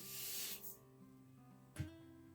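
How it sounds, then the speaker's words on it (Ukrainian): A short, soft hissing pour of sugar into a pot on the stove, followed by quiet and a faint clunk. "Засипаємо сюди цукор,"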